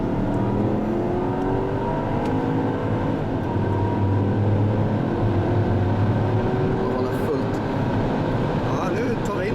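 Porsche Cayenne Turbo S facelift and Audi RS4 drag racing side by side, engines droning and rising steadily under acceleration with a constant rushing wind, while people talk over it.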